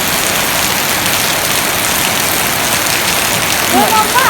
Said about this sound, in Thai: ฝนก็กำลังหยุดเนาะค่ะฝนกำลังหยุดจ้ะ